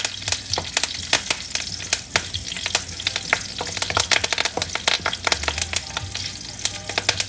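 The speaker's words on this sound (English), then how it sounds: "So curry leaves, and saute this a little bit." Curry leaves sautéing in hot oil for pepper chicken masala, a dense, crackling sizzle with rapid pops and the scrape of stirring, close and continuous.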